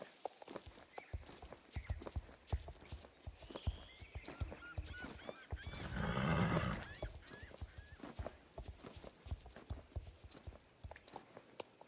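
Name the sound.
horse hooves cantering in Star Stable video game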